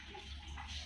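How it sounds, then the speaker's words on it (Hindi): Water trickles steadily into a bucket from a low-pressure tap, a soft, faint, continuous splashing heard alone. "टप टप टप पानी आ रही है, उसी से हम बाल्टी भी फिलहाल भर रहे हैं।"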